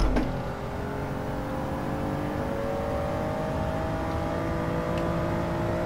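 Race car engine in Gran Turismo 7 holding a steady, droning note with gradual pitch rises as it accelerates through a lap, loud and continuous with no talk.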